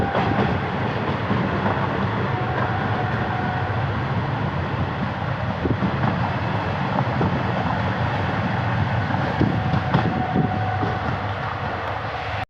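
A passenger train passing beneath the Lucknow metro on the inaugural run toward Daliganj Junction, a loud continuous rumble with rhythmic clickety-clack of wheels over rail joints, heard from close by for the whole stretch.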